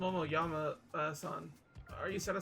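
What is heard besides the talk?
No everyday noises stand out.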